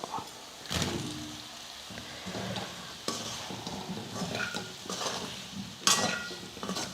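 Elephant foot yam stirred and sautéed with masala in a pan, quiet sizzling under repeated scraping and clattering spoon strokes against the pan, no speech.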